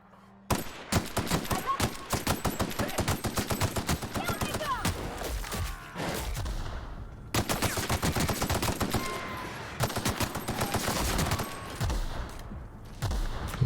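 Sustained bursts of enemy gunfire in The Outer Worlds, loud, rapid automatic shots in two long volleys separated by a brief lull, with no talk over them.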